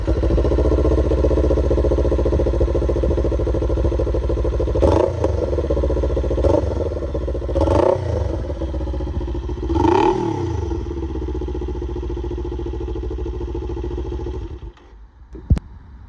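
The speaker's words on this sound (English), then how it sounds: "now that we have the new exhaust installed, I'm going to give you guys a sound check." Kawasaki Ninja 400 / Z400 motorcycle with a new budget aftermarket exhaust idles close by, and the throttle is blipped in four quick revs before the engine cuts out near the end.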